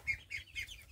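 Domestic ducks, including Chinese ducks, give three quick, faint, high-pitched calls at feeding time on a home farm, evenly spaced within a second against quiet background.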